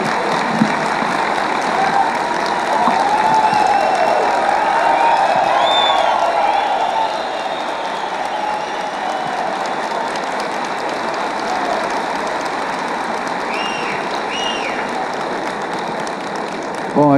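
Audience applause at a march rally, a sustained broad wash of clapping from a large crowd, steady and loud, with scattered whistles and cheers rising over it.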